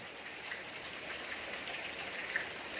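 A soft, steady patter of rain fills the background, even and fairly quiet, with no voices.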